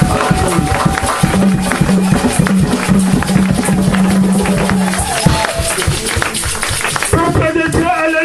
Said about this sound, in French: Nous applaudissons pour la gloire de notre Dieu